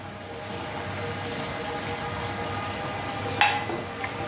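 Green peas tipped into a frying pan of sizzling oil while cooking a potato and bori dish, a soft steady crackle with a few small clinks and a brief scrape near the end.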